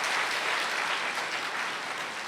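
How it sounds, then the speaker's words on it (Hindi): An audience at a cultural evening gives sustained applause after a song, an even, continuous clatter of many hands heard from a little distance, with no voices over it. "जोरदार तालियां तो होनी चाहिए।"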